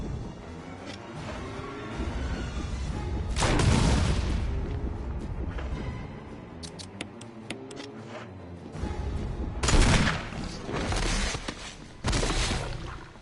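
Grenade launcher blasts in Resident Evil 1, several heavy booming impacts spaced a few seconds apart, loud and close over a low rumbling game background.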